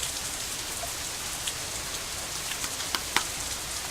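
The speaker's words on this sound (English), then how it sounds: "The rain keeps coming down harder and harder." Heavy rain pours down in the visual novel game Katawa Shoujo, a dense, steady hiss with a few sharper drop spatters near the end.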